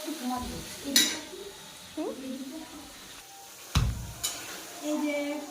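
Pointed gourd (potol) cooks with spices in a pan, with soft sizzling under scattered sharp clinks and scrapes of a utensil against the pan while a person talks.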